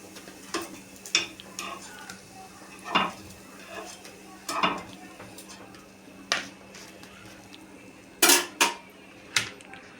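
Green moong appe are lifted out of a metal appe pan, with sharp, separate clinks and scrapes of utensil against metal spaced every second or so over a low steady background hum.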